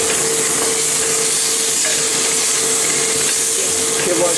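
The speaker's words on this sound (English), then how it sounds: "Keep on stirring" Chicken and potato are stirred in a hot clay pot over a high flame, with a loud, constant hiss and roar from the heat and faint scraping of stirring underneath.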